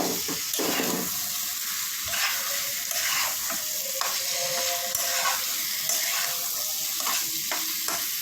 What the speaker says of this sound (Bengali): এখন আমি বন্ধুরা আলুটা দিয়ে দেবো